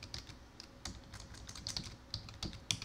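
Keys clatter on a computer keyboard as a command is typed, an irregular run of light taps and clicks, close and quiet, with nothing else heard.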